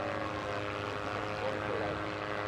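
A toy airplane engine in the skateboarding video game Disney's Extreme Skate Adventure makes a steady, droning propeller buzz that holds at an even level for the whole short stretch.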